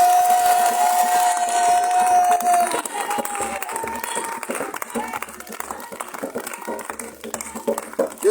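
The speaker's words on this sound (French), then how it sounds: "Je suis étonné de l'acclamation," Congregation at an intense evening healing prayer service applauds and acclaims, a crowd of clapping and cheering voices heard under a preacher's amplified talk and a held musical tone at the start, then choppy, uneven applause.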